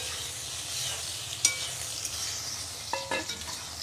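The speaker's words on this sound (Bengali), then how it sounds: "আলু কটা আগে একটু নাড়াচাড়া দিয়ে নি।" Potatoes, eggplant, beans and tomato being stirred in a pan with no garlic or onion, a steady soft sizzle with a few close scrapes and clinks of the utensil against the pan.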